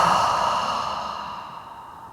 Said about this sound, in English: Big breath out through the mouth.